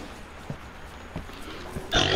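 A pig monster in a horror video game gives a few short, muffled grunts spaced about half a second apart, then a louder, harsher snort-like burst at the end, all over a quiet background.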